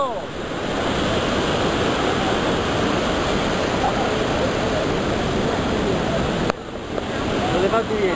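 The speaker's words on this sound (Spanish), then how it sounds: "¡Cataratas de Iguazú!" Roaring waterfall at Iguazu Falls, a loud steady broadband rush of falling water with wind buffeting the microphone, briefly cutting out near the end before resuming.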